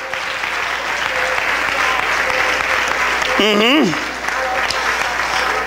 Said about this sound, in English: Come on, clap your hands and praise him in the house.